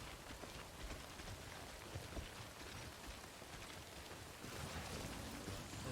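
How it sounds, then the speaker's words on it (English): Timefall rain in Death Stranding pouring steadily, a dense, even hiss of falling drops with no talking, getting slightly heavier toward the end. "I gotta hurry up. Because now it's raining."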